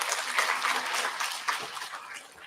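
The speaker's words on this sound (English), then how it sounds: "Round of applause for him." A classroom audience at a first-year induction program breaks into a short burst of lively applause, many hands clapping at once before it tapers off.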